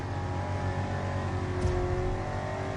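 A small-block 350 V8 car engine revs hard and steady, loud and close, with a throaty drone that holds without a break.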